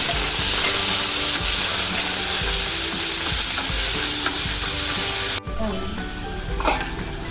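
Tomato pieces frying in a little oil in a pan, a loud, dense sizzle with stirring scrapes that drops abruptly to a quieter hiss near the end.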